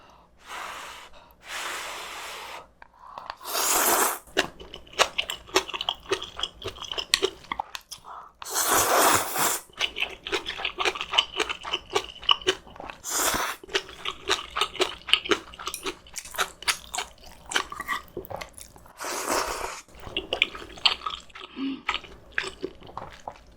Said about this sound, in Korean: 우동이 뿌니까 우동 먼저 건져 먹을게요